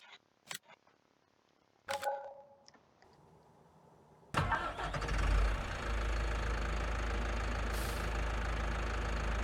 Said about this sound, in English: see what this tractor sounds like